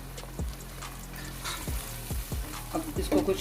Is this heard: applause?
no